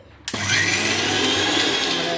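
An electric mixer grinder kicks on abruptly and grinds cooled masala in a jar with a loud, steady motor whine and whirring rattle that holds continuously after a quiet start.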